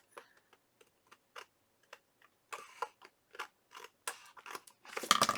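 Scissors trimming material during a build: a series of short, crisp snips, sparse and quiet at first, then coming closer together and louder toward the end, with no talking.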